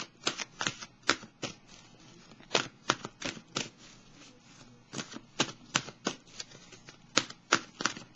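Oracle cards being shuffled by hand, a quick run of crisp riffling snaps and flicks at irregular pace, close and fairly loud, with no talking.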